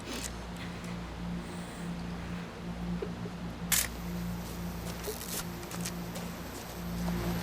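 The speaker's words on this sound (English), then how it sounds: "Seems like hitting the shutter right there." A camera shutter in the video game What Remains of Edith Finch snaps once or twice as crisp clicks over a steady low background hum.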